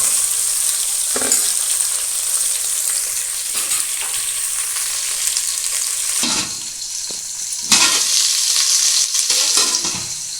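Ingredients for Telangana-style sambar fry steadily in a pan on low gas, a continuous loud sizzle with occasional stirring scrapes and small bursts, no voices over it.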